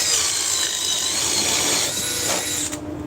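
A power drill with a half-inch bit, running off a 3.5 power stack battery, whirs loudly and steadily at close range before dropping off abruptly near the end.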